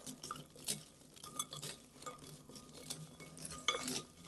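A spoon scrapes and clinks against a bowl while stirring pretzels to coat them, a quiet, close series of irregular taps and scrapes with a sharper clink near the end.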